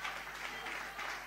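An audience applauds at a book presentation, producing a brief, dense wash of clapping that holds steady throughout and is heard from a short distance.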